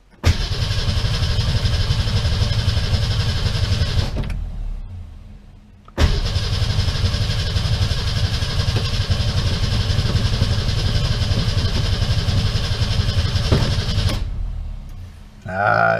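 A 1966 Ford Mustang with a newly replaced starter cranks in two long bursts, each a loud, close, rhythmic churning that fails to catch, separated by a brief pause and ending with a short tail.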